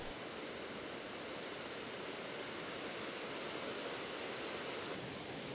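A high waterfall in the Serengeti region of Tanzania pours in a steady, dense rush of broadband roar that holds constant and fairly close throughout, with no voices.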